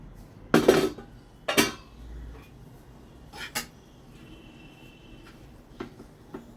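Metal spoon scrapes and clinks against a cooking pot and plate while jaggery rice is served, a few sharp knocks spaced a second or two apart, then quieter scraping in a calm kitchen.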